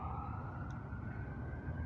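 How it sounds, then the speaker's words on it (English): A siren wails steadily at a distance in a street, sitting as a sustained tone over a constant low rumble of traffic, with no talking. "The sirens going off."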